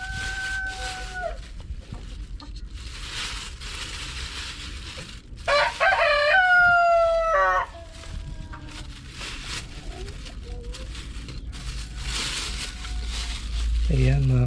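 A rooster crows loudly nearby in the middle, with chickens clucking around it and scattered quieter crowing and faint voices at other moments.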